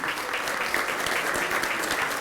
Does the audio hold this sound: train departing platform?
no